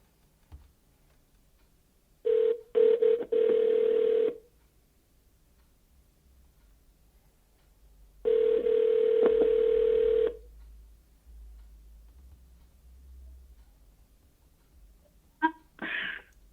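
A phone call connecting through a portable soundbar: two long ringback tones separated by silence, followed by a brief click and blip as the line picks up.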